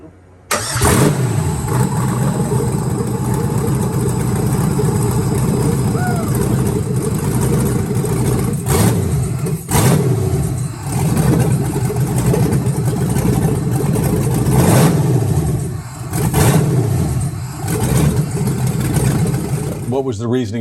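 Engine of an LS-swapped 80 Series Land Cruiser with a misfire, starting up, then idling and revving in repeated surges that rise and fall, loud and close, while people talk over it.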